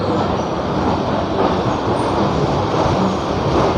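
A continuous heavy rumble of a train, steady and close, fills the air with no distinct pauses, at a railway station platform with the Kolkata–Jammu Tawi express standing nearby.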